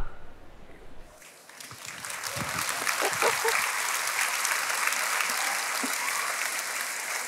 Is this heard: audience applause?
yes